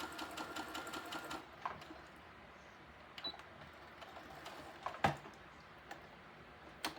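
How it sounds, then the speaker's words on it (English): A sewing machine stitches across a quilted cow head in quick, faint, rapid ticking runs, broken by short pauses and a few sharper clicks, in a quiet room. "sew across it."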